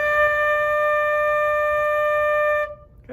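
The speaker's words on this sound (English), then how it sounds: "now I'm going to go ahead and bring this flute to my mouth." A flute sounds a single sustained D, steady and clear with a breathy edge, held for about two and a half seconds before cutting off into near silence.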